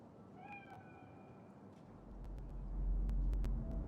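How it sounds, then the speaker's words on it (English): A cat in Cyberpunk 2077 lets out a couple of short meows near the start, followed by a low rumbling ambient background that swells toward the end. "Chill, just a cat."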